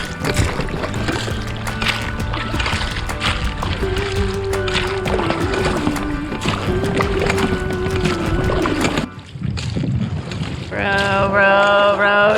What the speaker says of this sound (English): The reason I'm rowing is because the engine is flooded.